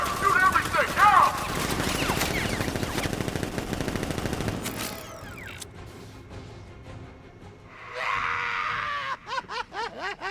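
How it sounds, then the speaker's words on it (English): Rapid automatic gunfire from militia in Batman: Arkham Knight, a loud sustained burst of shots for about five seconds, then quieter mechanical sounds and shouting voices with a later spell of cries. "Open fire! Shoot everything! Now!"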